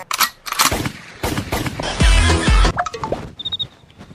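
Gunshots ring out as a series of sharp, loud cracks, with a denser volley of rapid fire in the middle and scattered bangs before and after.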